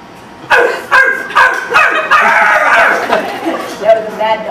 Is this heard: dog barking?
yes